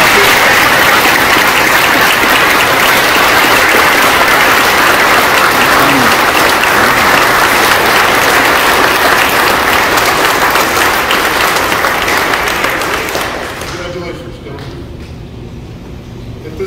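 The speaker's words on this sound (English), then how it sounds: "I'd like everybody to give a round of applause to our 11." Sustained applause from a crowd gathered for fire department promotions, loud and even for about thirteen seconds before quickly fading to a quiet room.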